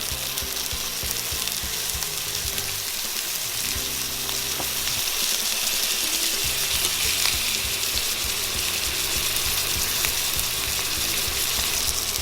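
A rack of lamb fries in butter in a pan, giving a continuous loud sizzle and crackle throughout with no one talking.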